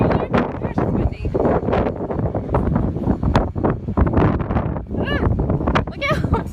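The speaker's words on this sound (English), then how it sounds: "Gosh, it's windy." Gusty wind buffets the microphone in loud, uneven blasts while a person talks intermittently nearby.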